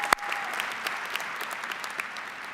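Applause from a commencement ceremony audience, dense crisp clapping at a moderate distance, fairly quiet overall, with a brief sharp tone near the start.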